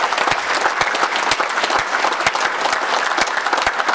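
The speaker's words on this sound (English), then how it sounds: "let's have a round of applause for our spouses" Banquet crowd breaking into steady, dense applause, with sharp individual claps standing out over a continuous wash of hands, fairly loud and sustained throughout.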